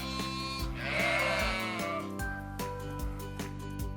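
A sheep bleats with a wavering, quavering cry near the start, set against light rhythmic music that continues afterward.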